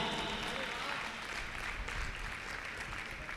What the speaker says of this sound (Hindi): इस बात के लिए ताली बजाइए।